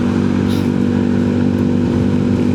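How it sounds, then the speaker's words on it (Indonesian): Steady, loud mid-pitched engine drone from a 2019 Yamaha Mio M3 125 scooter, holding a constant hum close by with slight rev fluctuation throughout. "Si Ucil ini motor Mio M3 125 tahun 2019"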